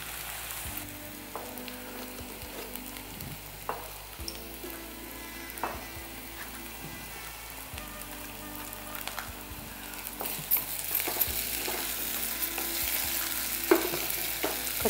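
Chicken frying with masala, potatoes and capsicum in a pan, a steady close sizzle with occasional stirring scrapes and clinks throughout, growing a little brighter and louder toward the end, no voices.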